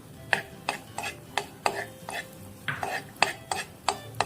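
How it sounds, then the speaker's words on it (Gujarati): Garlic cloves are stirred through melted butter in a pan for garlic bread, with about a dozen quick, evenly spaced scraping clinks of a utensil against the pan over a faint low background. "બટર મેલ્ટ થઈ જાય એટલે આપણે તેમાં લસણ નાખીશું. હવે લસણની કળી નાખીશું."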